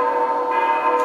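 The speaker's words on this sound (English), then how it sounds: "The bells. The sweet chime of the glorious bells." Sustained ringing of bells with a rich, layered tone, loud and steady throughout, with no voices.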